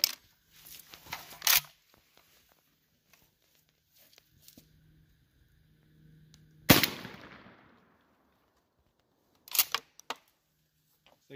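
A Mossberg 535 12 gauge pump shotgun with an XX-Full turkey choke firing Remington shells outdoors, giving one loud, sharp blast with a short decaying tail, set among quieter handling clicks and a second burst of mechanical noise near the end.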